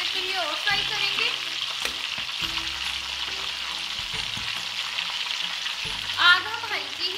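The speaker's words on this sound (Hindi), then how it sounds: "अब हम साइड चेंज करके इसे थोड़ी देर के लिए और फ्राई करेंगे।" Murg musallam, a whole chicken, frying gently in a pan over low heat: a continuous, close sizzle with bursts of spattering, a few stirring knocks and a brief louder swell near the end, with no talking.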